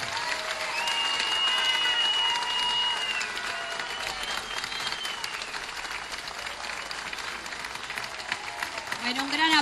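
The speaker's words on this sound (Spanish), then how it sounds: "un gran aplauso para Estefanía Díaz" Sustained crowd applause at a Frente Amplio political rally in Las Piedras, a dense wash of clapping with cheers that holds steady and swells near the end, with voices in the crowd.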